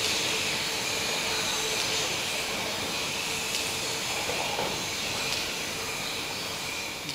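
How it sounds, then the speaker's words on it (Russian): A Stockholm metro train running through an underground tunnel in Sweden, a loud continuous rumble and roar heard from inside the car, steady throughout with no voices. "Мы в метро, Стокгольм, Швеция."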